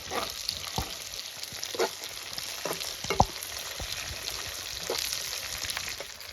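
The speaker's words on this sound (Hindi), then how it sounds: "अभी इसमें हम ऐड कर लेंगे रेड चिलीज़, इनको भी हम फ्राई कर लेंगे" Red and green chilies fry in oil in a pan while a Kashmiri-style fish dish is cooked. A quiet, steady sizzle is broken by a few sharp clinks of a spoon against the pan.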